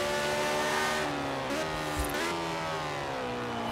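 Peel Trident microcar driven in Forza Horizon 4, a steady droning engine tone with rising and falling pitch as it revs, loud and continuous throughout with no talk.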